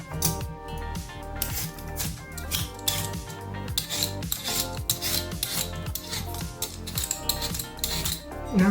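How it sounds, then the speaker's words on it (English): Vegetable peeler scraping the hard skin of sweet potatoes, a steady run of close, dense rasping strokes repeating throughout with a faint pot-and-pan clink in the background. "Sweet potato skin is quite hard to peel, so I've got my peeler."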